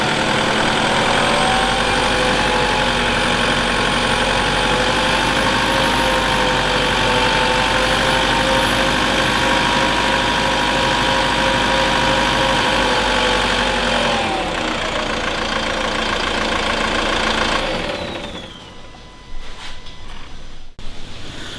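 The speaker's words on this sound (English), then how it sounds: "now we'll start and run the vehicle and we'll run it for 15 minutes at 1500 RPM, gradually increasing from an idle speed" A vehicle engine idling in a workshop during a diesel particulate filter soak-and-rinse cleaning, a loud steady hum that shifts slightly midway and then drops off near the end.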